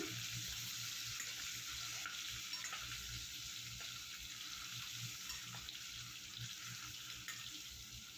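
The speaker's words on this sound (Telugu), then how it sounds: "ఇవి వేసి బాగా కలర్ చేంజ్ అయ్యేంత వరకు బాగా ఫ్రై చేసుకోవాలి ఎగ్స్ని." Eggs fry in a pan with turmeric, chilli powder and salt, a soft continuous sizzle with occasional stirring scrapes, quiet and close.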